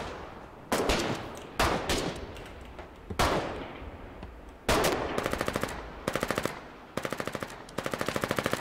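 Gunfire in the trench-warfare game Foxhole: sharp single shots at first, then several rapid machine-gun bursts with rhythmic repeated cracks, loud and close, ringing over a low background rumble.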